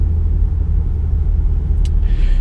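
An old Audi with a newly replaced automatic gearbox drives on the road, its steady low engine rumble and road noise heard from inside the car, with a brief faint clink near the end.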